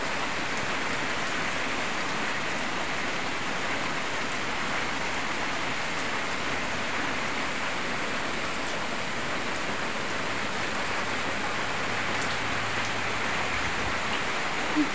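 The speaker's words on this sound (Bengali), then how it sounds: "বৃষ্টি কমতেছে না।" Steady rain falls in a continuous, even hiss with no break, close and fairly loud, and no voices are heard.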